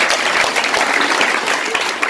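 Enthusiastic audience applause at a motivational talk in Bhopal, dense and steady clapping from a large crowd, loud and continuous without speech.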